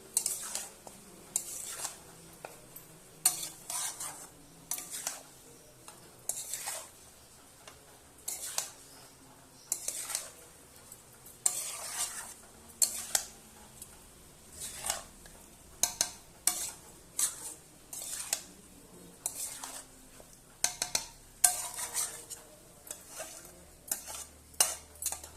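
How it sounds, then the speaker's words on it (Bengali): A spoon scrapes and clanks repeatedly against a pot while marinated mutton with ginger-garlic paste and oil is stirred for a red curry, in a steady rhythm of close metallic strokes with a faint sizzle beneath. "এবার আমি ভালোভাবে নেড়ে নেব"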